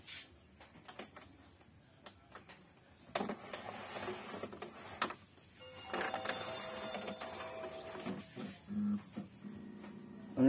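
Epson L565 inkjet printer powering on and running its startup cycle, quiet at first, then bursts of mechanical whirring, clicking and motor hum that start and stop in uneven stretches, close by with no talk.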